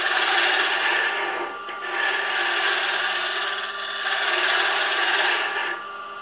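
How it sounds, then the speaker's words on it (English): A Hunter Viceroy hand tool cuts parallel to the grain of a wood workpiece in long, steady rasping strokes with brief pauses between them, close and fairly loud, with no talking. "I'm actually kind of cutting parallel to the grain, so I can go in this direction"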